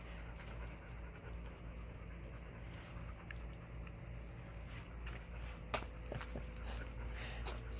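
A young puppy pants quickly and steadily close by, a soft, rhythmic breathy sound that runs throughout with faint jingles and small knocks near the end and no talking.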